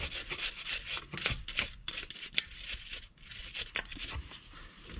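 Surface on a 2016 Toyota Camry four-cylinder engine being wiped and scrubbed clean during serpentine belt tensioner work, with quiet, close rubbing strokes in an uneven rhythm.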